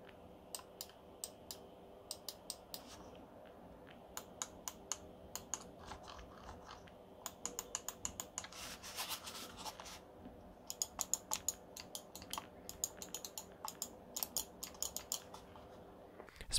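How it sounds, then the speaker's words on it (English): Buttons on a Corsair Harpoon RGB wireless gaming mouse click sharply and repeatedly, in quick bursts and single taps close up, with no talking. "give you guys a listen to how clicky all of the buttons are, because they are pretty tactile"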